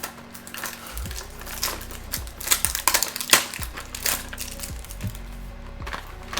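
Cardboard box packaging being torn and pulled open by hand, with repeated crinkling, ripping and crushing bursts in an irregular rhythm at close range and no talking.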